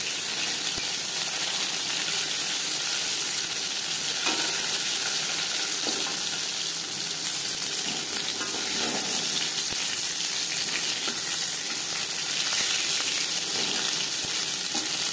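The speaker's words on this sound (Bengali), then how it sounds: "তেল আমি গরম করে নিয়েছি। ভাজবো মিডিয়াম ফ্লেমে।" Crispy fish chops frying in hot oil over a medium flame, a loud, dense, unbroken sizzle with bubbling crackle filling the whole stretch.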